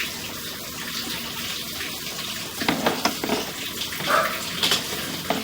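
A toilet flushes during a plumbing video inspection of a drain line with a camera, heard as steady rushing, gurgling water that swells and splashes louder toward the end.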